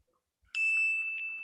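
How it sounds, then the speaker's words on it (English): A single bell rings out in an interior stage-play scene, a sustained bright metallic tone that starts abruptly and rings steadily for about a second, close and alone without talk. "There's the bell."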